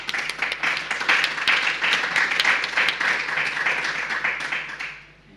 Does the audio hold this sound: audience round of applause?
yes